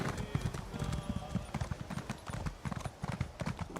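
Horse hooves clip-clopping in The Elder Scrolls Online, a quick, rhythmic run of hoof strikes with a brief whinny-like tone early on, moderately loud and steady throughout.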